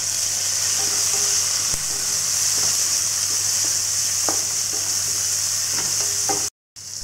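Onion, tomato and meat masala fry in oil, a steady bright hiss of sizzling, broken by occasional spoon taps and stirring knocks, then a brief silence near the end.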